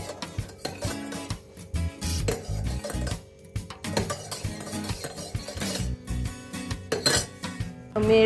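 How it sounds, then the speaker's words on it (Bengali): A spoon clinks against the sides of a teacup while stirring sugar into tea, quick irregular metallic taps and scrapes close by, with no talk. "চিনি দিয়েছি বলে গুলে দিচ্ছি"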